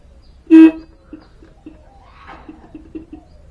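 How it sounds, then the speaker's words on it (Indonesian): One short, sharp horn beep sounds close by from a Honda Supra X 125 carburetor motorcycle that will not start, followed by faint clicks and quiet background noise. "Kemudian kita klakson"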